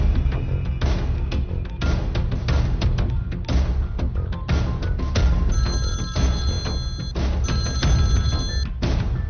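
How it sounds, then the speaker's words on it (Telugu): A telephone rings in repeated bursts, loud and close, over a dense background of noise with no talking. "ఏయ్ దుగ్గల్కి ఫోన్ కొట్టు."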